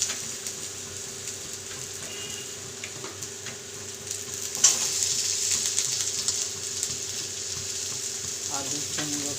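Potatoes frying in hot oil with neem leaves: a steady, moderate sizzle that swells as more pieces drop in, with a few light clinks and stirring noises, close by.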